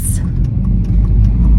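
A car being driven, with a steady low engine and road rumble throughout and someone talking over it.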